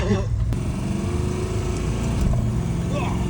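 A mystery auction racecar running on a newly fitted engine, its throttle held back by a tight cable, drones loud and close in a steady rumbling idle with slight revving, while voices talk over it.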